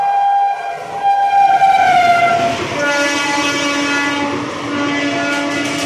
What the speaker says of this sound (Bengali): দেখো আমার সামনে আসছে জঙ্গিপুর শিয়ালদা এক্সপ্রেস। ভালো করে খেয়াল করো কত দ্রুত গতিতে আসছে ট্রেনটা।